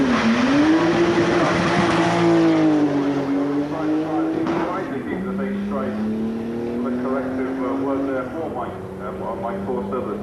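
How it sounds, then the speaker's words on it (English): A Porsche Turbo launches off the line at the Brighton Speed Trials in 1991, its engine note rising loudly through the gears and holding a steady roar up close, with a commentator talking over it throughout. "got the Porsche Turbo away cleanly this time, much better than his practice effort."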